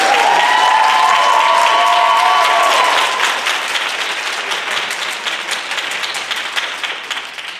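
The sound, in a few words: audience applause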